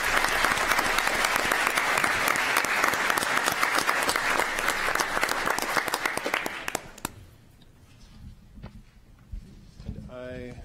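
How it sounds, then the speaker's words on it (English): A city council meeting audience applauds with sustained, dense clapping for about seven seconds, then it fades to scattered claps and room murmur, with a voice starting at the end. "So give yourselves another round of applause."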